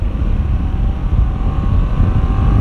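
Yamaha MT-07 Tracer motorcycle, a 2016 model, cruising on an expressway: a steady, loud engine drone mixed with rushing wind noise, continuous throughout with no talk.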